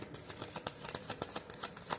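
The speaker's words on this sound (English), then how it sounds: "So I'm going to just shuffle for this one, see what pops in." A deck of cards being shuffled close by, a quick run of soft riffling flicks and taps repeating steadily, quiet with no talking.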